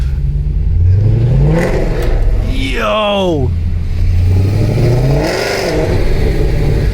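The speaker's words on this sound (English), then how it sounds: "Yo, this exhaust is totally different. That sounds cool." Mercedes W204 C63 AMG V8 exhaust fitted with an X-pipe, revving in loud bursts that rise and fall, close by, with someone talking excitedly over and between the revs.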